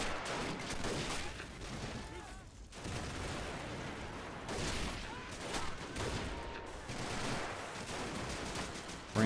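Machine gun fire in the Men of War video game during a battle at Shuri Castle, with dense, continuous bursts and scattered shots at moderate volume, heard across the whole stretch.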